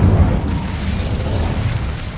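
A fiery blast from the Incendio spell in a Harry Potter video game, a loud, dense rumbling burst that roars steadily for about two seconds with no voice over it.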